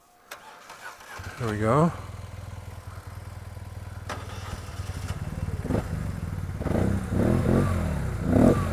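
A modified BMW R1200C motorcycle engine cranks and catches, then settles into a close, lumpy idle with a few blips of throttle toward the end while someone speaks briefly.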